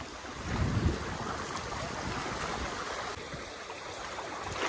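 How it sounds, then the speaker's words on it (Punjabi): Fast-flowing floodwater rushes past submerged homes, a broad steady roar of moving water with a louder surge near the start, heard without speech. "ਆਹ ਦੇਖ ਲਓ ਪਾਣੀ ਦੀ ਸਪੀਡ"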